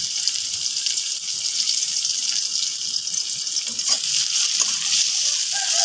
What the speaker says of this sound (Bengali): এরপর তেলের ভিতর পেঁয়াজ কুচি করে রাখা পেঁয়াজ দিয়ে দিলাম।